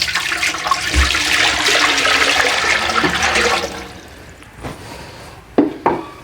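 Water poured into a cooking pot on a lit stove while making beef paya, a loud steady rushing splash for several seconds that tapers off, followed by a few sharp metallic knocks.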